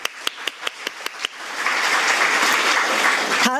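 Audience applause at a forum on prehospital emergency care patient safety: a few separate claps at first, then building into a dense, even round of clapping from the crowd that carries loudly to the end.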